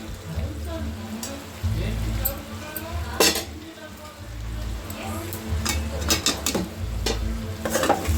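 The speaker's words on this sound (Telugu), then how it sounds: "మసాలాలన్నీ బాగా కలుపుకోవాలి" Spice masala, including garam masala and coriander powder, stirred into spicy frying chicken in a pan: a steady low sizzle with scraping spoon strokes and sharp metallic clinks against the pan, close and moderately loud.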